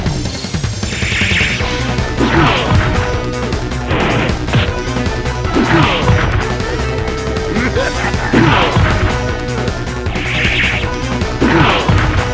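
Bison's Psycho Crusher special move in the fighting game Street Fighter EX2 Plus, a repeated series of heavy crashing impacts and whooshes every couple of seconds over game music, with an announcer shouting between hits.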